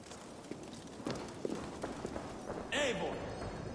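Horse hooves clip-clopping at a steady pace in Assassin's Creed Valhalla, a moderately loud rhythmic beat with game ambience and a brief voice near the end.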